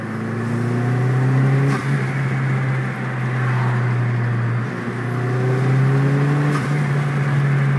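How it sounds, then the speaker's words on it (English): A car fitted with a CorkSport bypass valve during an acceleration pull after break-in: a steady, loud engine drone with rising harmonics, swelling and dipping through the pull, with brief faint whooshes of the valve near two and six seconds. "what the CorkSport bypass valve sounds like once it breaks in after about a dozen pulls"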